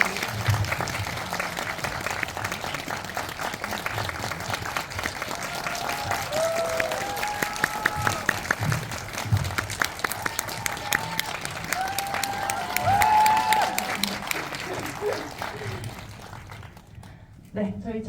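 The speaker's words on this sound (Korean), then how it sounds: "큰 박수 부탁드립니다" An audience applauds at a film talk event, with sustained, dense clapping that swells and then fades toward the end, while voices and cheers mix in underneath.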